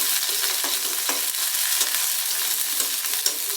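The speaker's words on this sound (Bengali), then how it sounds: "পেঁয়াজটা ভেজে নেব।" Onions frying in a pan for a spiced fish curry, a steady broadband sizzle with faint stirring scrapes running throughout, close and continuous with no voices.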